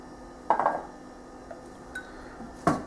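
A spoon stirs a homemade cereal mixture in a bowl, giving a few brief clinks and scrapes against the bowl over a quiet background.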